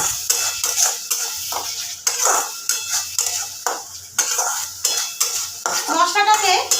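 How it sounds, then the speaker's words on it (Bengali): Spice masala for an egg and soya chunk curry being stir-fried hard in a pan, with rhythmic metal spoon scrapes and clanks against the pan repeating about every half second over a light sizzle, close and fairly loud. "আমি আরও কিছুক্ষণ খুব ভালোভাবে কষিয়ে নেব"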